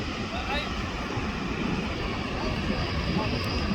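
A Lufthansa heavy jet airliner from Munich at LAX gives a steady, loud broadband engine roar with no breaks, and a voice talks over it.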